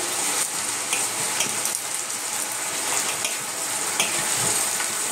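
Tomato pieces tipped into a hot frying pan with coriander powder, turmeric and salt for a Rayalaseema-style cabbage chicken curry, giving a steady close sizzle and crackle with faint stirring clicks throughout, no talking.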